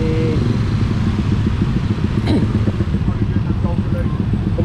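Dense motorbike traffic crawling through a jam in Canggu, Bali, a steady rumble of many small engines close by with a constant low drone and occasional revs, while someone talks over it.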